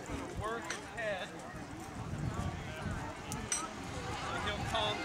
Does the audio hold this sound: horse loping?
yes